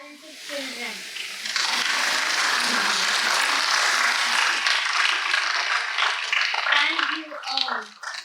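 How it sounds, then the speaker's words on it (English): Audience applause for children at a gymnastics tournament ceremony, a broad steady wash of clapping that swells after a quiet start and holds for several seconds before tapering. "Let's all clap for these talented children."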